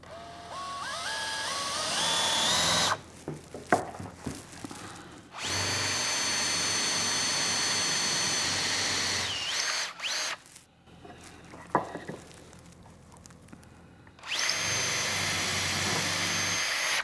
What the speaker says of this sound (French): Et ensuite, je vais agrandir ce trou, mais plus près de l'épaulement.